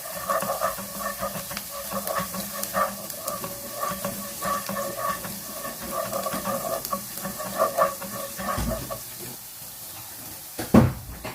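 Onion and garlic frying in a pan for minced beef with carrots and potato, a continuous sizzle broken by repeated stirring scrapes and one sharp clatter near the end.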